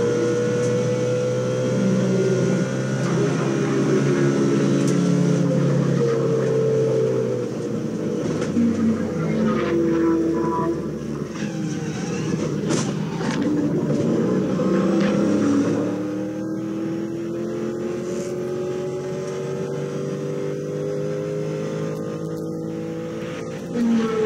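V8-engined GT86 race car on the first lap of a race, a loud continuous engine roar whose pitch sweeps up and down through the gears over about twenty seconds, with no speech.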